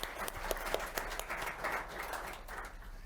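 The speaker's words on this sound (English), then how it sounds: "A big round of applause to them, please." Audience applause for panelists after an e-commerce and SEO discussion, a soft, scattered patter of claps held at a steady, moderate level throughout, heard from a distance in a room.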